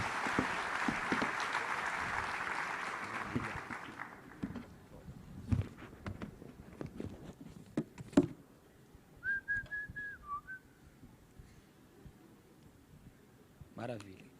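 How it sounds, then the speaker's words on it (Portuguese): A church congregation applauds loudly for about four seconds, then the clapping stops, leaving scattered quieter sounds and a brief whistle. "Vamos recebê-lo aqui com um aplauso."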